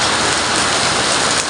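A loud, steady downpour of heavy rain drums on a veranda, a thick close wash of noise with no talking.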